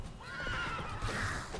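A horse in the video game The Witcher 3 whinnies loudly for over a second amid a thudding, continuous background that suggests hooves at a gallop, with no speech.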